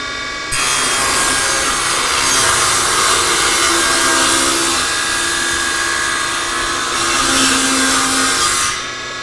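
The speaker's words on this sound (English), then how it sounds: "I've tilted the blade to 20 degrees and I've moved my fence to the other side of the blade, and now I'm going to make the cut" A table saw with its blade tilted to 20 degrees rips a bevel cut through stock, a loud steady whine and rasp that runs unbroken for about eight seconds before cutting off, with no voices.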